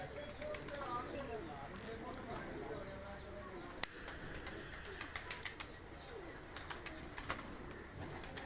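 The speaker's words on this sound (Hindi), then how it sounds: "कबूतर आए ने" Pigeons coo softly on a rooftop in Gujranwala, Pakistan, during a pigeon-flying championship, amid a busy outdoor backdrop of rustling, scattered clicks and a brief flutter, with distant voices in the background.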